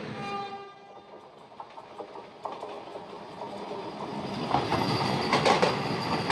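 The saffron Howrah-Puri Vande Bharat Express overtakes at Jakhpura station, a steady rail rumble swelling into a louder rush of passing carriages with clattering wheels, heard from a stationary train alongside.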